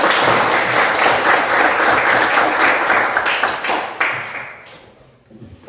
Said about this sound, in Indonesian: kita tepuk tangan bersama-sama dulu